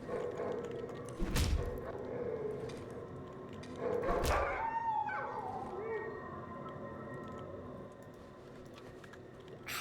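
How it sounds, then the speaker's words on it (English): A dog inside a building in the video game Darkwood, heard as a couple of sharp barks and thuds among quiet ambient noise, with a voice talking nearby. "Wow, there's a dog in here!"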